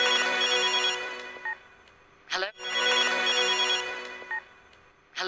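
In a movie trailer scene, a mobile phone plays a bright electronic ringtone melody that repeats twice, with a short clatter of other sound in the gap between the rings.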